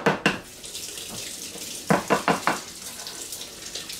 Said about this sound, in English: I need to wash my hands real quick.